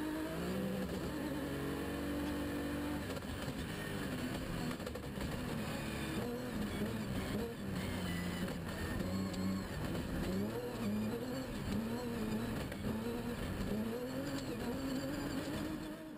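Rally car engine roaring continuously at high revs on board during a fast run, with shifting engine pitch and steady road and wind noise, loud and close throughout.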